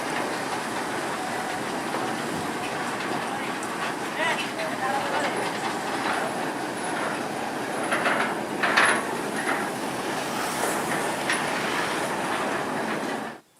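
A D6 locomotive hauls a train of sugar-cane lorry wagons on the rails of the PG Jatiroto sugar mill, giving a loud, steady rumble with hiss and scattered wheel squeals that stop abruptly at the end.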